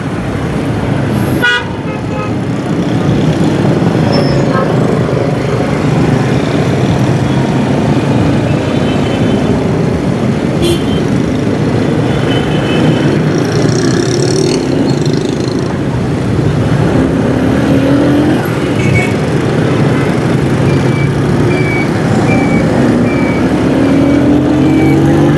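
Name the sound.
road traffic jam at a U-turn, heard from a bike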